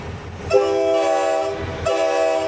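A passenger train on a Colorado rail line near Marquette sounds its horn twice, with long sustained harmonic blasts, the second after a brief gap, loud and close over a low rumble as it begins reversing at the end of the line.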